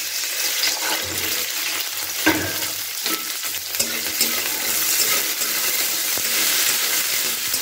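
Peas go into cauliflower already frying in oil, and a loud, continuous sizzle fills the pan with scraping stir noises and a few sharper clatters, close up and without speech.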